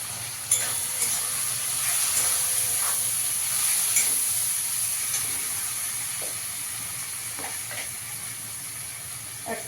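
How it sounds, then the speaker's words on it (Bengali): Turmeric, cumin and coriander powder frying in a pan for a rui fish curry (kosha), giving a steady close hissing sizzle with occasional soft scrapes and clicks from stirring. "মশলাটা ভালো করে কষিয়ে নিতে হবে"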